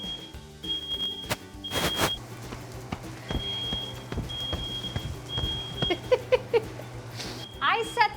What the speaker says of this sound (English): I set the fire alarm off probably twice a month